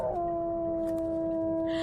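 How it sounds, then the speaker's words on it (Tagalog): A dog howling at night, one long, steady, mournful tone held for nearly two seconds, loud and close, with no talk over it. "muli kong narinig ang nakakatakot na alulong ng aso"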